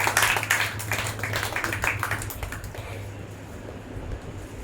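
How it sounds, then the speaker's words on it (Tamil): A church congregation claps hands during a Palm Sunday sermon, a burst of rapid, fairly close clapping over the first few seconds that then thins out and fades into quiet room tone. "கைத்தட்டி ஆண்டவர் மகிமைப்பட்டார்."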